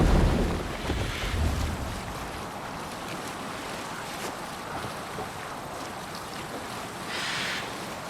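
A sailing ship at sea in the video game Assassin's Creed Valhalla, with a continuous wash of wind, waves and hull noise, fairly loud at first and then steady, with a gust swelling near the end.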